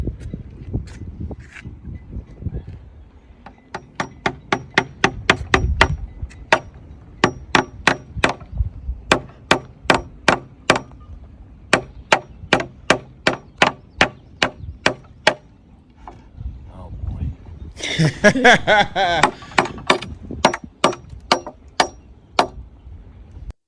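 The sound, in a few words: hammer hitting a wooden board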